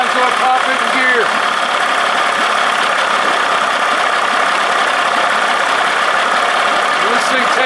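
A 1979 Evinrude 55 hp outboard motor runs steadily and loudly close by, a continuous droning rattle that holds constant as it is shifted into gear, with no clear change in pitch.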